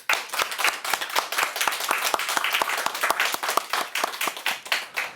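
A church congregation breaks into lively applause, many hands clapping loudly and densely nearby, with sharp individual claps standing out from the roar for about five seconds and no voices over it.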